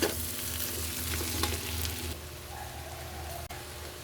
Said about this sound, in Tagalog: gigisayin natin mabuti ang ating bawang at sibuyas